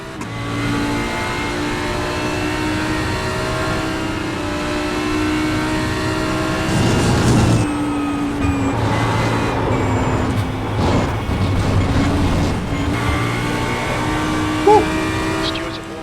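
A pack of GT3 race cars in iRacing accelerates through the first sector, multiple engines droning and revving together at close range, with the roar swelling midway through.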